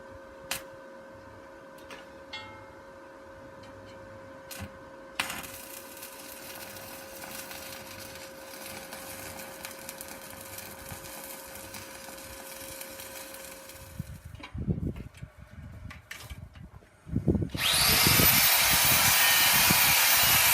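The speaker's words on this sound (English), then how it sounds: "I'm just going to put some welds to reinforce along here" Metal being welded to build a new forge: a long steady hiss and crackle with a faint tone, then broken bursts and a loud harsh buzzing roar near the end, close and with no talking.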